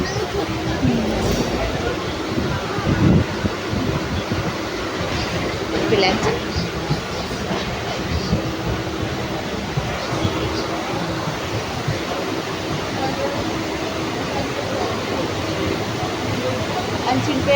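A passenger train running, with a continuous rumbling rattle of wheels and carriages heard from inside, steady and fairly loud, with people talking over it.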